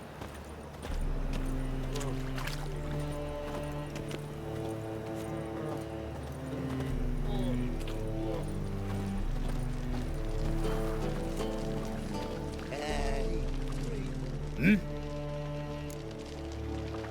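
A horse's hooves clip-clop steadily in the video game The Witcher 3, a rhythmic trot running under louder background music, with a voice talking at times.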